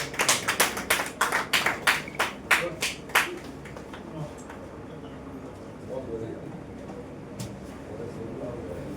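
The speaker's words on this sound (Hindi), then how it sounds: "एक बार जोरदार तालियां।" Audience at a literary poetry gathering in Karnal claps in a burst of sharp, rapid claps for the first few seconds, then the applause thins out to a few scattered claps over a quiet room with faint murmuring.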